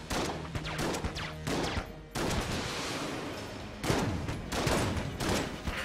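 Rapid video-game gunfire from Enter the Gungeon, with bouncing bullets, comes in dense crackling bursts, loud and busy, broken by a brief pause partway through.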